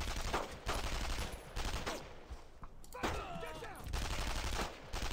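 Dense gunfire from a World War II firefight in the video game Brothers In Arms: Road to Hill 30, with sustained rapid bursts and volleys nearly throughout and brief lulls between.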